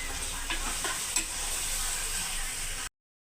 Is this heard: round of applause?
no